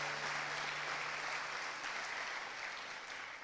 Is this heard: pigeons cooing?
no